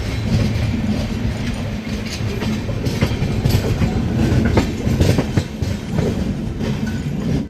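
The Hubli–Banaras weekly express, train 17324, rolls along with a loud, steady rumble and rhythmic clickety-clack of wheels on rail joints, heard close from inside a first AC coupe, no talk.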